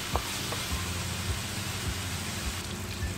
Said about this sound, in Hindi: दो मिनट के लिए हमें इसे भूनना है।